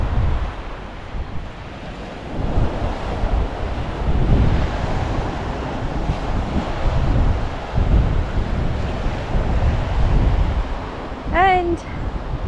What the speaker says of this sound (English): the beautiful beach on a sunny day